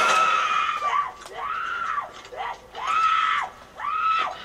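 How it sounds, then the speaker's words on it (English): A character in a video game shooter lets out repeated loud, drawn-out screams, four long wavering cries in a row that fill the clip, with no talk over them. "Boy, you scream really loud."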